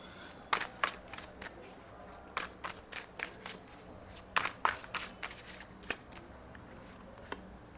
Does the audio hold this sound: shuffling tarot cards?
yes